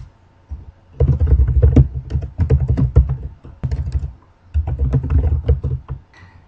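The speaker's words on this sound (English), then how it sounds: "You just type the information in that you want to have in your signature." Brisk typing on a computer keyboard while an email signature is being entered, a steady run of close clicks in two bursts separated by a short pause, with no voices.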